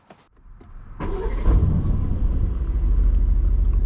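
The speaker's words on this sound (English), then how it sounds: "let us just start the car and get on with it" An Aston Martin engine starts after a few faint clicks, the starter catching with a sharp bark before settling into a deep, loud, rumbling idle close by.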